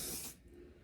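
Hair product sprayed onto a wig, a single short close aerosol hiss lasting about a third of a second before it cuts off, leaving quiet room tone.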